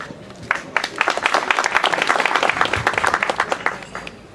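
Dense applause fills a youth-branch breakfast gathering of a political party's district office, a sustained crowd of hands clapping that swells and holds, fairly loud and close.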